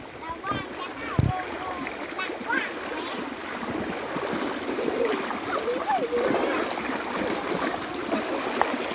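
Splashing water as people wade across a flowing stream through rice fields, with continuous running-water rush and intermittent splashes under nearby voices talking throughout.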